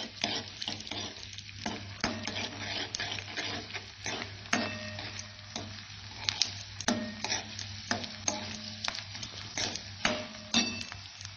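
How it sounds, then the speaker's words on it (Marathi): Edible gum (dink) frying and puffing in a pan over a low flame, a steady close sizzle broken by frequent sharp crackles and pops as the pieces swell, with occasional stirring, and no voices. "डिंक टाकून घेतला आपण आणि आता हा लो फ्लेमवर छान फुलवून घ्यायचा आहे आपल्याला."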